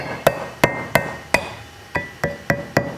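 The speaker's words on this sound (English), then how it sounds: "this one I may have to tap with a hammer" A hammer tapping an EDM mold part to knock it loose gives eight sharp metallic taps in an uneven rhythm, close and moderately loud, each ringing briefly with no voices.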